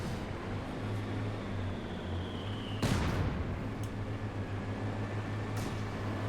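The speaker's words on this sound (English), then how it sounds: "Big shot there from the Soviet mortar" A single Soviet mortar shot in the Company of Heroes 2 video game lands as one sharp, loud blast midway through, over a constant low battlefield hum and faint distant rumble, with no talk.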